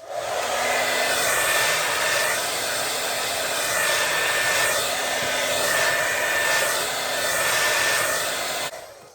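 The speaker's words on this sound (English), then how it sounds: "I'm actually gonna put my blow dryer on cool this time, like high intensity but cool" A blow dryer running on high cool setting, a loud, steady whirring rush with a faint whine that holds for several seconds, then cuts off.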